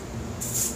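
WD-40 sprayed onto a carbon-fouled engine cylinder head, a brief, soft aerosol hiss starting midway and lasting under half a second, close but faint.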